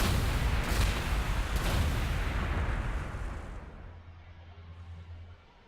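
Rapid bursts of gunfire and booming explosions in the video game Warhammer 40,000: Gladius form a dense barrage that fades away, leaving a low hum at the end.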